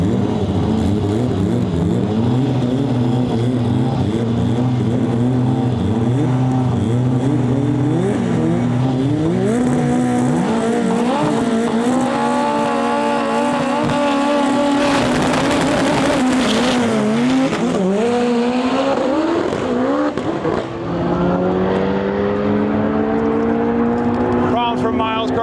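Drag race cars launching down the strip in a stick shift import class, engines screaming loud and near with rising and falling gear-change whines, tire noise and a commentator talking over the roar throughout.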